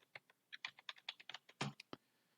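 Quick, light keystrokes on a computer keyboard as a password is entered, about a dozen crisp clicks in an uneven rhythm with one heavier press near the end, close and quiet with no voices.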